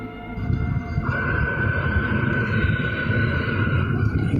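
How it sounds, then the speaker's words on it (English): A deep, droning horn-like blare fills the air, steady and loud with a rumbling low end, a higher tone joining partway through and holding. "some sort of bass-heavy horn filling the entire sky outside of his apartment"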